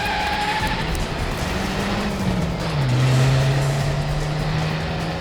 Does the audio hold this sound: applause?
no